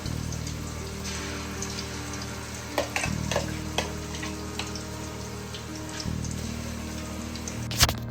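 Spice paste frying in hot oil while being stirred for a Telugu fish curry (chepala pulusu), with a steady sizzling hiss and a few scraping clicks of the spoon against the pan.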